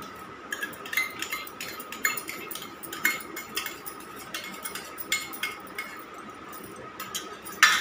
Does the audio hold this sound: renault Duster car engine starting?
no